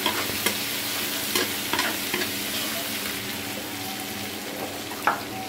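Ginger and garlic fry in hot oil, a steady loud sizzle with occasional stirring clinks and scrapes, close by and uninterrupted by speech.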